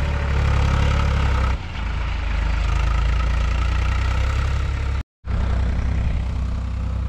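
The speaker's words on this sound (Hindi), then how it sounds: "इधर खेत को मैं जोतवा रहा हूँ ट्रैक्टर से" A tractor ploughs a paddy field, its engine droning loud and steady at close range with a deep rumble, briefly cutting out for a moment before resuming.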